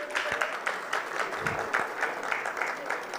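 Award ceremony audience applauding on cue, steady moderate clapping from a sizable crowd with a few louder individual claps and faint voices mixed in.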